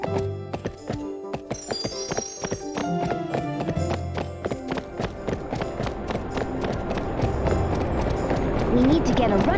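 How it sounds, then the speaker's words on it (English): In the PS2 game Barbie Horse Adventures: Wild Horse Rescue, a horse gallops with rapid, rhythmic hoof clops over game music, with a neigh heard along the way and a voice talking over it. "Press the square button to make the horse run."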